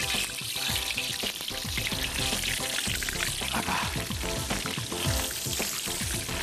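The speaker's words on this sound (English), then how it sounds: "Rain is dripping so we can hear the oil boiling." Wild carp frying Balkhash style in boiling oil, a loud steady crackling sizzle that fills the whole stretch with dense popping and spitting, no voices over it.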